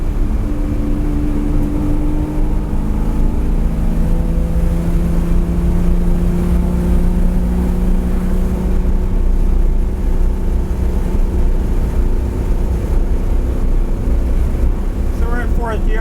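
A Ferrari 330 GTC cruising in fourth gear on a straight track, a loud steady engine drone with wind roar inside the car and a light rattle, near and continuous, with no clear voices.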